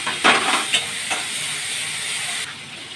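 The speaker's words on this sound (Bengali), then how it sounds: "পেঁয়াজ আর টমেটোটাকে ভাজবে" Onion and tomato fry in a little oil in a pan, giving a steady close sizzle with a few louder bursts of stirring near the start before settling into an even hiss, with no talk.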